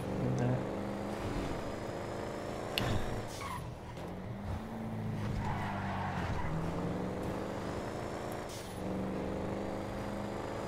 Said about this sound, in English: the way the car sounds